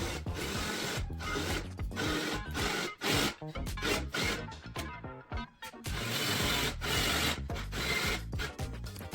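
A power drill bores into wood in a continuous, loud grinding whir, briefly easing off and restarting midway, with no talking.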